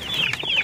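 Chickens clucking in a crowded backyard coop shared with turkeys, a quick run of high, chirpy calls close by, heard alone in a brief burst.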